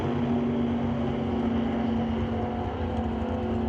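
Boss Hoss GT 10.0 liter drag race vehicle running at a drag strip, a steady droning engine hum with a constant pitch, heard at moderate distance with no talking.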